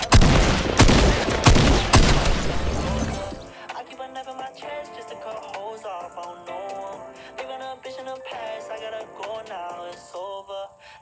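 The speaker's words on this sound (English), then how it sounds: "you have to kill him with the sniper" Rapid sniper and gunfire shots in a video game, loud and dense for the first three seconds and then stopping as music continues underneath.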